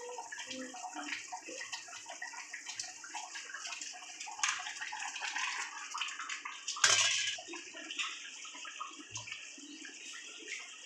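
Pieces of Bhola fish hit a pan for a spicy jhal curry, giving a continuous crackling sizzle with a sharper burst partway through, fairly quiet overall.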